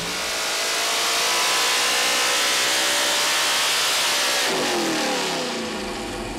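A Ford 5.0L small block running on a dyno with timing at 35 degrees screams as it climbs steadily toward 8,000 RPM. The loud, sustained rising wail is heard alone and drops off sharply near the end.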